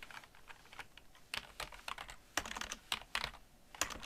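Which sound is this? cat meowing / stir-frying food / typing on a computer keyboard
typing on a computer keyboard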